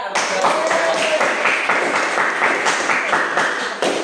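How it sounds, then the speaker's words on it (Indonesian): Sustained clapping from a classroom of students, dense and steady for about four seconds, loud and close with no break, filling the whole stretch. "Ya, tepuk tangan untuk Ica."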